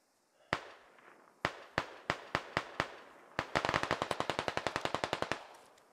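Gunfire in the tactical shooter SquadOps: several separate sharp shots, then a rapid automatic burst of about twenty cracks, loud and close, with no voices.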